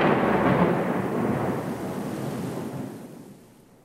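Thunder from a lightning strike on nearby water rolls as a broad, loud rumble that holds steady and then fades away over a few seconds, with no voices.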